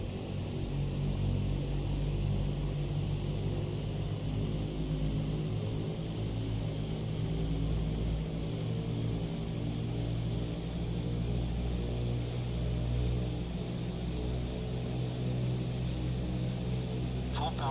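Four radial propeller engines of a PMDG DC-6 running at full takeoff power in Microsoft Flight Simulator 2020, a steady loud droning hum with layered low harmonics that holds unbroken throughout.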